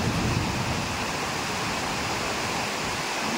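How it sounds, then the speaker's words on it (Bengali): Heavy rain pours down in a dense, continuous broadband hiss, loud and close, with no other sounds breaking through. "বৃষ্টি হচ্ছে, আজকে প্রচুর বৃষ্টি হচ্ছে"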